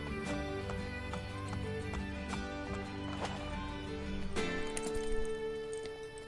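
Horses gallop in Assassin's Creed Brotherhood with steady clip-clop hoofbeats and an occasional whinny over layered game ambience, moderately loud and continuous.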